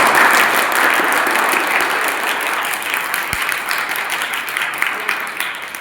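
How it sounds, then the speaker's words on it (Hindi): A women's group gathering where children receive sweets and sweaters, its seated audience breaking into sustained, loud applause that fills the whole stretch from start to finish and slowly tapers, with a voice speaking underneath. "तो एक बार सभी तालियां बजा करके"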